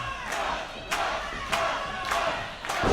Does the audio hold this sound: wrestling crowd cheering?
yes